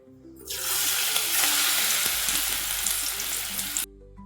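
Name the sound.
ajwain leaf pakoda batter frying in hot oil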